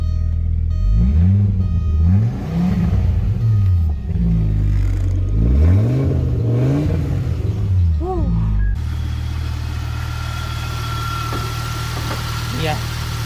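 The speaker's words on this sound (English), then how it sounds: "let's rev it up" A rare 20-valve turbo Audi with EFI fuel injection, its engine revved repeatedly in loud rising and falling sweeps before settling into a steady idle. Voices can be heard in places.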